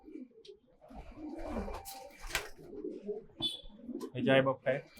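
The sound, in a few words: pigeon cooing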